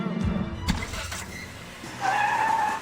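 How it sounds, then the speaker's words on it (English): A stunt car kangarooing, lurching forward in jerky stops and starts, with engine surges, a sharp thump and a rising tire-and-motor whine toward the end, fairly close, with faint voices in the background. "He's kangarooing to make it look like Dom is driving for the very first time."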